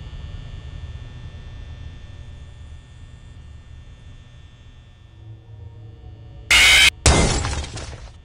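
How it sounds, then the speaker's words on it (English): Robotic animatronics smashed in the video game Dayshift at Freddy's: a steady electrical hum gives way to a sudden loud shattering crash, then a second burst of breaking debris near the end. "It's time to deal with these robotic fuckers. Dave Miller's file. It's smashing time."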